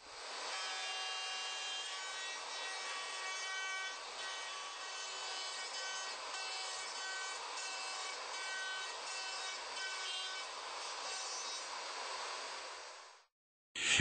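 A router with a straight bit and template guide bush cuts dovetail pins in wood on a Leigh D4R jig, giving a loud, continuous high whine with cutting noise throughout that stops abruptly near the end, with no talking.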